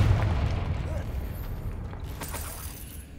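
Confringo fire spell cast in Hogwarts Legacy on PC, a loud booming blast with rumbling decay and crackle lasting a few seconds.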